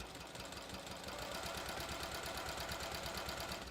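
A sewing machine stitches bathrobe fabric, running with a steady, fast mechanical hum and rapid rhythmic needle chatter throughout, faint and uninterrupted.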